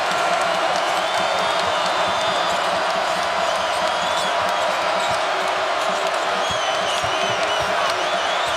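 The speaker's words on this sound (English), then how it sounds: "the crowd is roaring again here in Raleigh" Basketball crowd in a Raleigh arena at a North Carolina versus NC State college game roaring loudly and continuously, with whoops and whistles over the dense crowd noise and a commentator talking faintly underneath.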